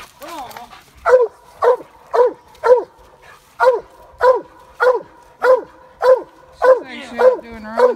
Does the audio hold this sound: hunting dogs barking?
yes